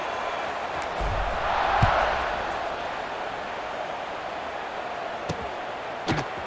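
Stadium crowd noise in the College Football 26 video game, Miami RedHawks vs Ohio Bobcats, a dense, steady roar of many voices that swells briefly early on, with a few faint thumps.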